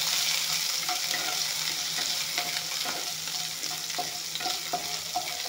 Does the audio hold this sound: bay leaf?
yes